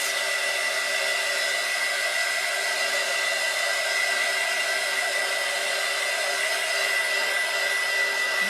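A hair dryer blows steadily and loudly over alcohol ink on a ceramic tile, a constant whooshing hum with no breaks and no talking.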